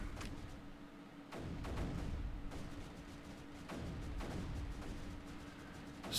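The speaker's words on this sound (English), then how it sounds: "Let's put a cannon here." Cannons firing in the strategy game Creeper World 3, heard as a series of sharp, booming shots at irregular intervals over a faint steady tone, with no talking.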